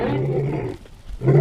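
A lion roars in a forest, a deep, rough roar lasting about a second, then a short pause, then a second loud roar starting close by.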